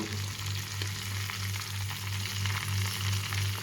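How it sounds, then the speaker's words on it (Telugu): Chicken pieces fry in oil for biryani with a close, steady crackling sizzle, underlaid by a low rhythmic hum from nearby equipment, and no voices. "ఇంకా మిగిలిన చికెన్ కూడా అన్నీ ఇలాగే ఫ్రై చేసుకోవాలి"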